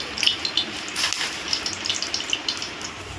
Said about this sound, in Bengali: কড়াই গরম হয়ে গেছে, কড়াই তেল দিয়ে দিচ্ছি।